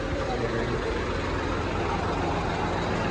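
A heavy tractor engine rumbles loudly and steadily up close, a dense continuous drone with rushing noise and no break.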